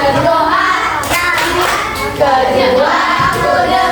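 Rhythmic clapping chant from an Indonesian primary classroom, the tepuk adab, with hand claps keeping time under sung voices, loud and close throughout.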